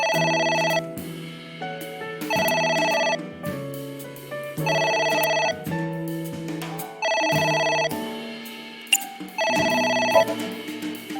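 A telephone rings repeatedly in AI: The Somnium Files, a game, in loud bursts of a bright electronic ring, five rings in steady rhythm with short pauses between them, close and alone.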